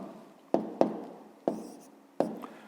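Pen or pencil writing numbers on paper during a fifth-grade math exercise, heard as four sharp, close tapping strokes spaced unevenly over a faint background, with no talking.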